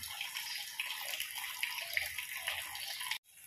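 Water drains from a concrete fish pond with a steady rushing, gurgling flow, close and moderately quiet, cutting off abruptly near the end.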